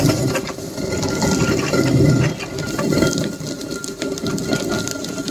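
An old-fashioned hand-turned stone grinder crushes white toor dal, giving a steady, gritty rumbling churn that continues unbroken at close range with no pauses.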